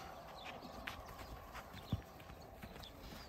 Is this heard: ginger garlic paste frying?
no